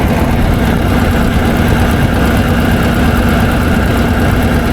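Rotec Renegade radial aircraft engine running steadily at idle, a loud, continuous low rumble with even vibration throughout and no voices.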